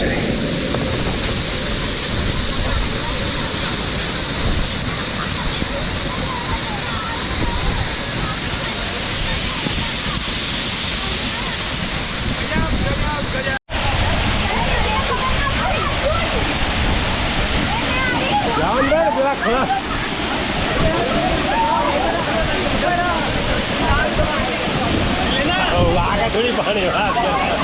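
The Gai Mukh monsoon waterfall in Thane, Maharashtra roars as a steady, loud, broadband rush of falling water without pause, with voices faintly audible beneath it at times.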